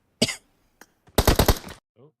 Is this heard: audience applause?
no